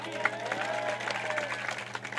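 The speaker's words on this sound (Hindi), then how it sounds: "बजाओ ताली।" An audience claps steadily and loudly at a live muqabala qawwali show, a dense, continuous patter of hands with faint crowd murmur underneath.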